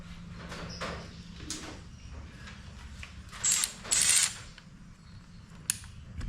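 A ratchet tightens bolts on a Ford Focus 4F27E four-speed automatic transmission, giving faint, quiet mechanical clicks and a couple of brief, sharper metallic rattles against low background noise.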